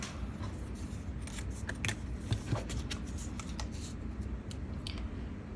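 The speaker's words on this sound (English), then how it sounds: "I'll just cut it with my scissors here." Scissors snip through paper during card crafting at a desk, a run of quiet, irregular crisp cuts and small rustles over a soft steady background.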